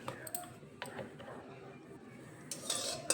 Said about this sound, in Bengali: তেলটা একটু নেড়ে চেড়ে কড়াইয়ের গায়ে লাগিয়ে নিলাম